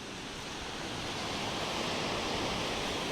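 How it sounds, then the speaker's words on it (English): Sea waves break steadily on Selsey East Beach near high tide, a loud, continuous close roar of surf that swells slightly louder toward the end. "these waves are coming up ridiculously high"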